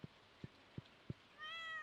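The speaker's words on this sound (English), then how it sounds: "Meow." A cat in the farming video game Stardew Valley meows once with a short, tonal in-game call, preceded by four soft rhythmic clicks or footsteps; quiet and brief with no speech over it.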